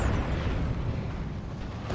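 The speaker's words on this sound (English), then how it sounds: "That's a D cannon getting shots, and that's the Tenso's D cannon there." Heavy D cannon shots from Eldar support weapons in a Dawn of War 2 Tyranids versus Eldar battle, a dense low rumbling blast that decays steadily over two seconds with no talking.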